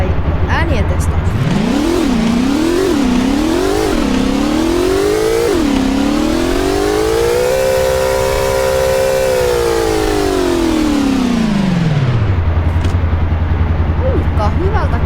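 A car engine in the video game Garry's Mod revs up and down in several quick climbs, then rises into one long sustained high rev before dropping back to a low idle, loud and close.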